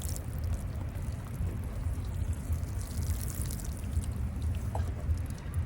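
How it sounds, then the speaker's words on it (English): Water poured from a can or hose onto wet garden soil over freshly sown carrot seeds, a steady soft splashing and trickling that runs evenly throughout with no talk. "Even though the ground's wet, I'm going to water them in anyway."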